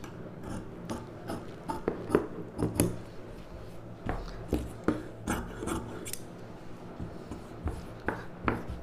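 Scissors cutting boat neck blouse fabric on a table, a series of close, crisp snips and rasping slides repeating at an irregular rhythm over faint background hum.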